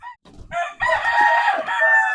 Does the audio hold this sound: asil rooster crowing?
yes